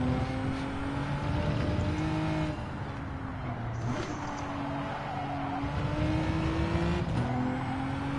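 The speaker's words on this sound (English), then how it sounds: "Lewis is doing burnouts." A car in a racing video game holds a continuous engine drone with rising and falling revs and squealing tires during burnouts, steady and moderately loud.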